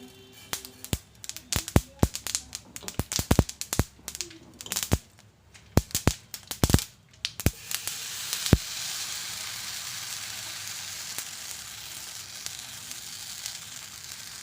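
Sesame seeds dropped into a hot pan crackle with a burst of sharp, scattered pops like tiny firecrackers, then settle into an even, quieter sizzle.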